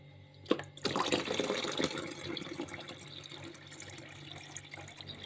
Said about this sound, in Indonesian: Pertama-tama kita masukin dulu air di tempat penampungan air ini ya